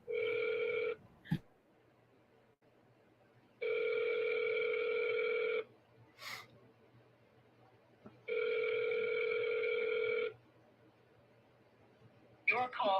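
A telephone call rings out before being forwarded to voicemail, sounding three long, even two-second bursts of ringback tone separated by pauses, with faint clicks and a low background hum in between.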